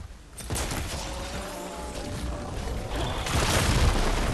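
An explosion detonates in the video game Horizon Forbidden West, a deep rumbling boom that swells and lingers with debris-like crackle, followed by a second louder surge of rumble.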